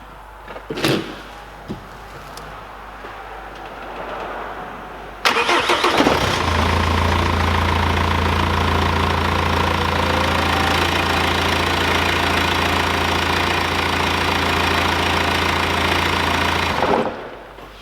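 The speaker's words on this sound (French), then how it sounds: "on va faire le premier démarrage" BMW car engine cranking and firing up for its first start after repair, a short burst of starter noise followed by a loud steady idle with a rough, knocking texture that runs for over ten seconds before cutting off.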